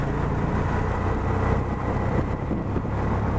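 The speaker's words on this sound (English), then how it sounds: "I'm in a motorcycle taxi. If you're wondering what that noise is" A motorcycle taxi engine drones continuously with rumbling low end and rushing wind, heard up close while riding in Nigeria.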